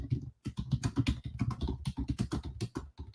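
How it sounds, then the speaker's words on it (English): Rapid clicking keystrokes on a computer keyboard come in quick bursts with short pauses, close and clear, with no voices over them. "let me just type this"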